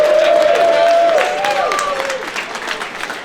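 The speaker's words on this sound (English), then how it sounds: "Can we give them a round of applause?" Audience applause at a game development showcase event, a loud burst of many hands clapping with some crowd noise and a tonal sound sweeping through near the start, settling into steadier clapping.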